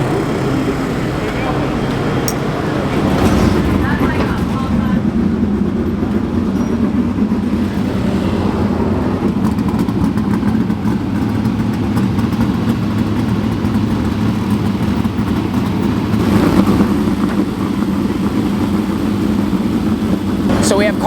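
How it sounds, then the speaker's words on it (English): Sprint cars hot lapping on the Knoxville dirt oval during the 360 Nationals give a continuous loud, rumbling engine roar that swells and fades slightly as the cars circle, with no pauses over the whole stretch. "So we have cars on the track."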